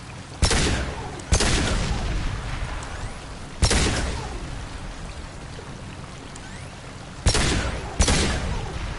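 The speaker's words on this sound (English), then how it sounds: "I'm taking friendly fire." Gunfire in the video game Mass Effect 2 comes as several sharp, loud shots, some in quick pairs, spaced out and each followed by a brief echoing decay.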